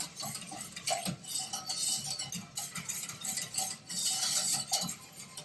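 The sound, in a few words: whisking cocoa into heating milk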